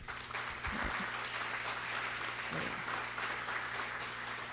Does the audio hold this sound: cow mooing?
no